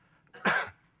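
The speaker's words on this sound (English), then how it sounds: "And pardon my cough" A single harsh cough bursts out, close and fairly loud, lasting a fraction of a second against near silence.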